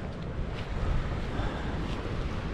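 Sea waves wash against the wild coast of western Ireland near a campsite, a steady broad roar of surf mixed with wind rumbling against the microphone.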